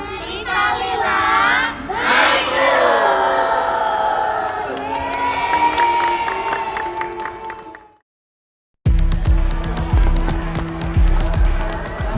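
Dense crowd packed together at a film roadshow, loud cheering, shouting and excited voices, briefly cutting to silence before the noisy throng resumes with rhythmic clapping.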